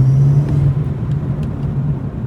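A BMW M240i engine hums with a deep, steady intake drone, loud and close, with a few faint ticks above it.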